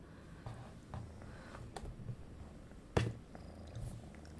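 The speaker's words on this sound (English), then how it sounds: "you can hear her purr" A small cat purrs quietly and close by in a low, steady rumbling rhythm, faint against a soft room background, with no one speaking.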